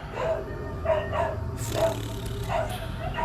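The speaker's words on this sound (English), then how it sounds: "Apologies for the dogs barking in the background." Several dogs bark in the background in repeated bursts roughly every half second to second, fairly distant and moderately loud, mixed with other room or game sound and some talk.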